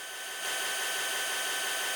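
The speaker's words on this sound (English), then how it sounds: "It sounds like a vacuum cleaner's just right by my ear." Loud, steady broadband whir like a vacuum cleaner right beside the ear, kicking in abruptly after a quieter moment and holding constant to the end.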